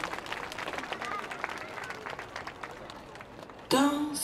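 An audience at an outdoor dance festival plaza claps and applauds for several seconds, fairly faint and diffuse, before loud music with singing suddenly cuts in.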